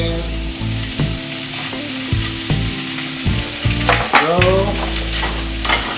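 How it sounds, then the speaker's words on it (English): Shrimp searing and sizzling in a small skillet for a Cajun seafood boil, a steady loud crackle with stirring scrapes and a brief spoken word. "I'm going to saute the shrimp up a little bit. It's going to sear a little bit"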